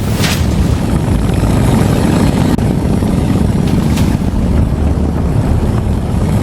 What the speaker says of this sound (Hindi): हेलीकॉप्टर के रोटर ब्लेड्स की आवाज़ मुसलसल बढ़ रही थी।